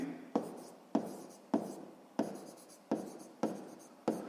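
Pen or pencil writing a sixth-grade math solution by hand on paper: a close, steady series of about eight brisk scratching strokes, each starting sharply and fading, with no talking.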